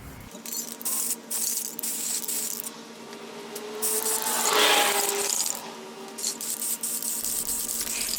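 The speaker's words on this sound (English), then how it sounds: "We're now ready to give this a coat of paint, and we are going to just use this Rust-Oleum metallic gold." Rust-Oleum metallic gold spray paint hisses out of an aerosol can onto a decorative pumpkin in several bursts of varying length, with one longer, louder spray in the middle, close and without talking.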